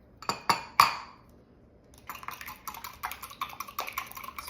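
A fork or whisk beats an egg in a bowl, starting with a few sharp clinks, then after a short pause a quicker run of light rhythmic taps against the bowl.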